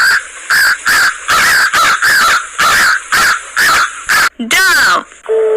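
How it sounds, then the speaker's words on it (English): A crow caws over and over in a loud, steady series of about ten harsh calls, followed by a couple of different bird sounds at the end. "Crow."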